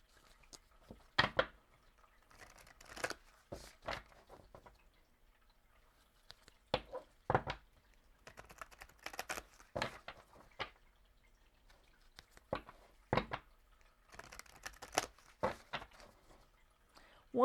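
Oracle card decks being shuffled in short, sharp, riffling bursts separated by quiet pauses, close and crisp, with no talking during the shuffling.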